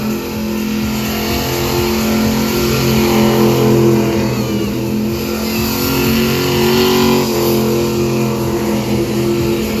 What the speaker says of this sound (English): Hand control, smoking up the rear wheels.